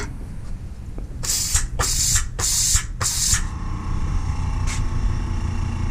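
Coolant mist from a grinder sprays in four short hissing bursts over the steady hum of the running machine, followed later by one faint shorter spurt.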